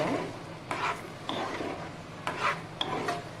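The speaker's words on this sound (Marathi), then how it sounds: "चवीप्रमाणे मीठ टाकून ती मिक्स करून घेऊ" A spoon scrapes and stirs paneer bhaji with salt in a pan, making four or five rhythmic rasping strokes, fairly close and quiet with no talking.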